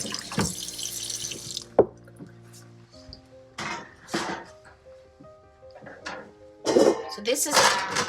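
Tap water running and splashing into a steam canner in a home kitchen, bursts of gushing flow with drips and a few metallic clinks between, close and moderately loud, with a low hum underneath.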